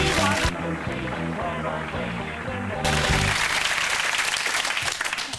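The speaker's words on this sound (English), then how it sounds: "You were clapping along as well, George." Studio audience applause on a British TV chat show, loud sustained clapping with music under it at first, then the music cuts out and the applause rolls on full and steady.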